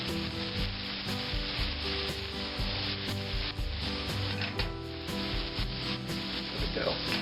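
Onions frying in a pan for ranch style beans, a steady crackling sizzle throughout with a low background tone and light stirring, close and clear with no one talking.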